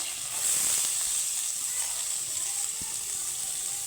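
Chana dal, curry leaves and chopped onion sizzling in hot oil for a poha snack, a loud, bright, continuous hiss close up with no voices.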